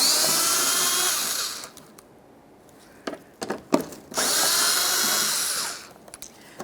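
Two long whirring bursts from a power tool with a 10mm socket removing fender liner bolts on a 2011-2020 Toyota Sienna, separated by a few clanks and clicks of handling, close and loud.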